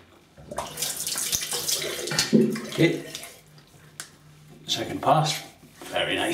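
A razor being rinsed under a running tap gives several uneven gushes and splashes of water, nearby and moderately loud, separated by short lulls, with some brief talk in between.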